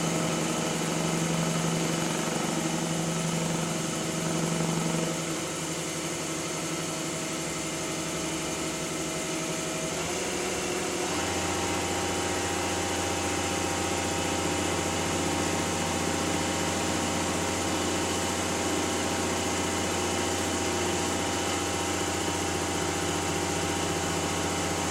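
A large wood lathe turning a turkey pot call spins at high speed, a steady whirring drone that shifts pitch partway through and then holds a constant tone, loud and continuous with no talking.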